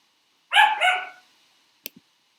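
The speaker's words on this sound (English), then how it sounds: "That's my dog in the back." A dog barks twice in quick succession from somewhere in the background, a clear double woof followed by a couple of small clicks and then quiet.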